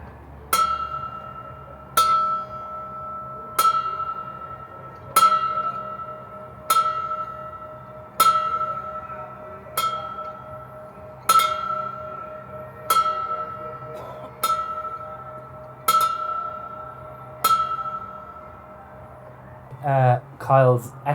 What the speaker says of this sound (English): we are going to ring the ship bell, the Fort Dearborn's bell, 12 times